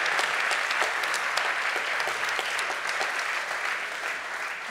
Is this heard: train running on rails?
no